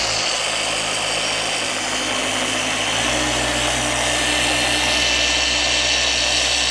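Power polisher with a microfiber pad spinning at low speed on a 2017 Porsche GT3 wing, a steady whirring drone that holds constant and shifts slightly in pitch midway, running alone without talk.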